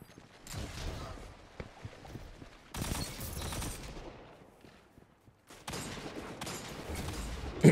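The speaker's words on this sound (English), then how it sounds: "Someone's shooting at me." Gunfire in a Destiny 2 online match, bursts of rapid shots in two dense stretches separated by a quieter gap, loud and close.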